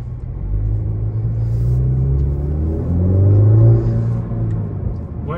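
A tuned 2019 Honda Accord 2.0T with a Mishimoto intake pulls hard on a short run, its deep engine rumble rising in pitch and swelling to a peak before easing off, heard steadily from inside the car.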